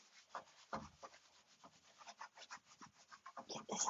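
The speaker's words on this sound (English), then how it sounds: "So my scrub mitt's just a little wet. I'm going to get some cleaning paste on it and just start wiping the walls." A slightly wet scrub mitt loaded with cleaning paste rubs across shower walls with hard water spots, a quick, close, soft scrubbing rhythm of many short strokes, faint overall and without voices.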